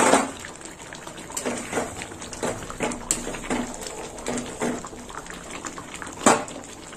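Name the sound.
dal with bottle gourd boiling in pot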